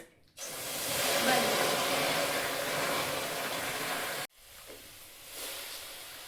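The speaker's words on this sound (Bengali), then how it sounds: "শাকটাকে সিদ্ধ করে নেব, তো কড়াইতে সামান্য জল দেব।" A little water poured into a hot kadai to boil greens bursts into a loud rushing hiss of steam that holds for several seconds, cuts off abruptly, then returns as a softer simmering hiss.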